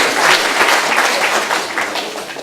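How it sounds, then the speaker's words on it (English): A forum audience at a youth initiative event gives a full round of applause, dense close clapping that holds steady and then thins a little toward the end, with no talk over it. "Can we give her another clap?"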